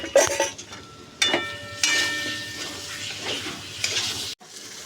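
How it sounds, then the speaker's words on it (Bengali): Fried potatoes stirred into spiced oil and mustard paste in a pan for a hilsa oil-jhal curry: a steady close sizzle broken by a few sharp scraping clatters of a spatula, cutting off abruptly near the end. "আমি এবার যে ভেজে রেখেছিলাম আলুগুলো দিয়ে এবার কষে নেব"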